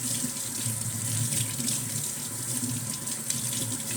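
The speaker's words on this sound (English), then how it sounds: "Now you just do a nice thorough rinse." Hands being rinsed under a running faucet, a steady close splash of tap water into a sink that holds an even level for the whole stretch, with no voices.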